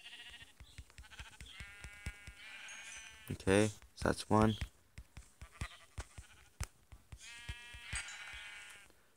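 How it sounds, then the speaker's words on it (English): Two loud, wavering sheep bleats from the Minecraft video game ring out in quick succession, set among a player's close-up talk. "But first, let me get the sheep."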